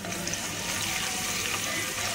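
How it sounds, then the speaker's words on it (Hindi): Finely chopped onions and whole spices fry in a pan of hot oil for an aloo kofta gravy, giving a steady, close, even sizzle that holds throughout with no pauses. "जो प्याज हमने बारीक काटी थी वो भी हम इसमें डाल देंगे"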